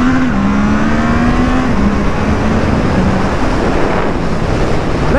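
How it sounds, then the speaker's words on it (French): A Triumph Trident 660 three-cylinder motorcycle of 81 hp accelerates on the road, its engine note climbing steadily beneath heavy, constant wind rush at the microphone. "L'accélération reste très correcte pour ce 3 cylindres."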